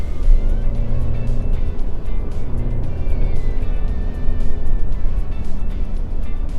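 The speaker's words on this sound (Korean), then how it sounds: "그래서 지금 엑셀 살짝 밟아볼게요" A Mercedes-Benz E300 Exclusive with an electric turbocharger pulls away under light throttle, its engine hum steady and close throughout, with a smooth, mild rise in tone.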